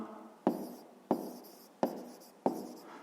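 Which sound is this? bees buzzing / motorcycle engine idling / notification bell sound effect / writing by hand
writing by hand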